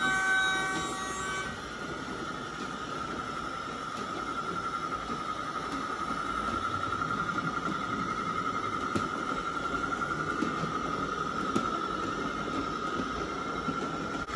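A large-scale model train rumbling steadily around a railway loop with a sustained high wheel squeal and a few faint clicks, continuous and fairly close.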